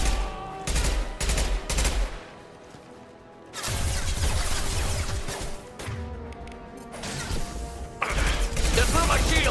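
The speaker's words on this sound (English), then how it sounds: "Firing concussive shot!" A concussive shot fires in Mass Effect 2 amid loud, dense combat. Heavy bursts of gunfire and mechanical clatter come in several sustained stretches, with brief gaps between them.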